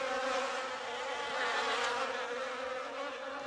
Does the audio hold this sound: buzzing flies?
yes